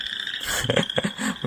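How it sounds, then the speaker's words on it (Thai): Frog croaking played from a relaxation sound app on an Android phone (Wuzhi Audio App): a short burst of several quick, raspy croaks over a faint steady background hum. "กบเสียงเขียดครับ"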